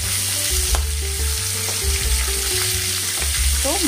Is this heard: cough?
no